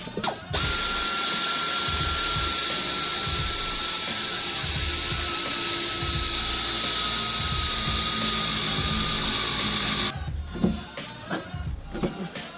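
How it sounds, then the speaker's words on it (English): A power tool whirs steadily for about ten seconds while compressing a car strut spring during an Eibach Sport-Line spring install, loud and close, then stops, leaving faint clatter and handling noises. "So what we're going to do is compress the spring, and it should give us some more room to be able to pull out the strut."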